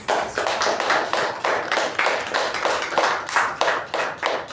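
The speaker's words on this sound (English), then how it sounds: "What a beautiful speech that definitely deserves another round of applause" Applause at a speech meeting, a small group clapping in a steady, rhythmic beat, close and even throughout with no voices.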